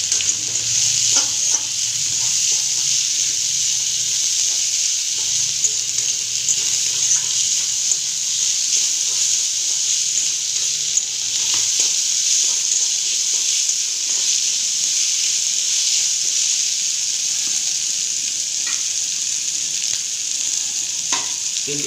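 Onions fry in oil over a medium flame, giving a steady, dense sizzle that continues without a break, close by, with occasional soft stirring clicks underneath.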